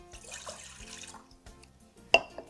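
Water trickles and splashes into a pan, with a few faint clinks and a louder drip near the end, quiet and close.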